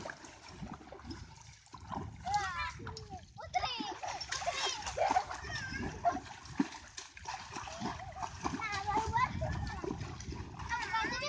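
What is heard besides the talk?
splashing water over someone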